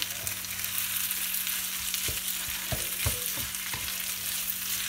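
Minced meat frying in a pan for an aubergine gratin, giving a steady close sizzle with a few sharp spatula scrapes and stirring knocks.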